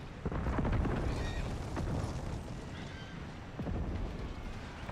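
Cavalry horses in the Empire: Total War game thunder along in a busy battle mix, hoofbeats and whinnies blended with distant booms and gunfire at a moderate, continuous level.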